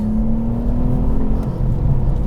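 A Nissan Stagea M35 wagon, the 350Z-based estate, pulls away after a gear change, its engine giving a steady, close whirring drone with a faint tonal whine that drops away midway. Road rumble continues underneath.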